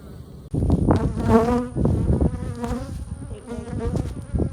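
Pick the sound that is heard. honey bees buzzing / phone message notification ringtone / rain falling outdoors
honey bees buzzing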